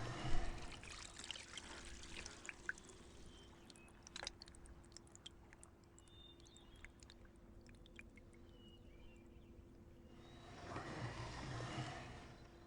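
Water trickles into a pool in the video game Riven, a faint, steady dribble with scattered small drips and splashes, ending in a louder gush of flowing water.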